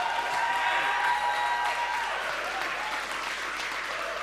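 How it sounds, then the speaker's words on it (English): Studio audience applause for a guest on a TV talent show: a full, even burst of many people clapping, fairly close and sustained throughout, with faint tonal background sound underneath. "Nanaba, a round of applause for her."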